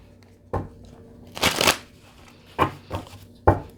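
Tarot cards from a healing deck being shuffled and handled, with several separate riffles and shuffles: a long burst in the middle and shorter sharp ones before and after, close up, with no talking.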